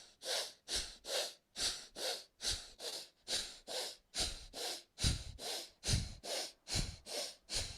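Rapid, forceful breathing pumps during a Hatha yoga flow, about sixteen sharp rhythmic breaths in steady succession, close and clear with no talking over them.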